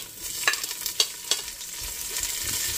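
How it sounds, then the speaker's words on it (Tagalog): Ginger sizzles and fries in a hot pan, stirred so a few sharp scraping bursts stand out over a low steady sizzle that swells slightly toward the end. "So ipa-fry natin yung ginger para bumango."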